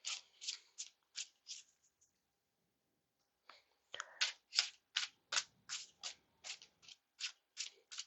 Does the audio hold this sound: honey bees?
no